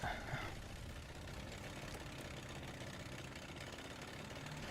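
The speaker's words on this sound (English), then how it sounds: "I heard the engine revving of the generator" A generator engine in Killing Floor 2 runs with a steady, faint, mid-pitched mechanical hum and rumble, holding at a constant level without clear revving surges.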